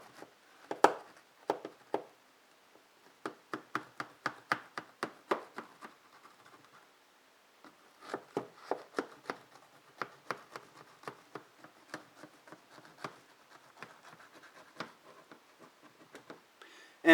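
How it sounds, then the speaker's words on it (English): A knife cuts through low carb Atkins cheese bread, giving a series of crisp, close tapping and scraping strokes in quick bursts with short pauses between slices, quiet and alone. "we cut this in fourths, and then we cut each fourth into 3 separate slices"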